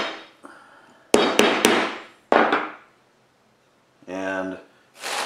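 Sharp tapping of a bar into a wooden beehive frame: a few close, loud knocks in quick succession followed by another hit, with brief silences and short bursts of other handling sound between.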